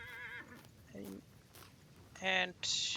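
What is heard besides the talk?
horse whinny in Vintage Story video game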